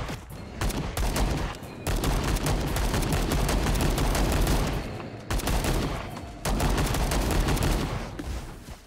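Rapid sustained gunfire in a video game, dense bursts of shots in long stretches broken by short pauses, loud and close with no talking.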